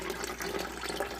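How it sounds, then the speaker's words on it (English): Water pours steadily from a pipe into a basement, a continuous splashing rush with no pauses. "I have water that runs in the basement at certain times, comes out of this pipe."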